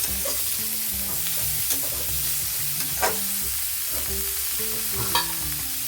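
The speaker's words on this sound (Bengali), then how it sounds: "হলুদ গুঁড়ো দিয়ে একটু নাড়াচাড়া করে ঢাকনা লাগিয়ে ভেজে নেবো" Kohlrabi, potato and mola fish fry in a pan with turmeric, a steady close sizzle running throughout with occasional scraping stirs of the spoon.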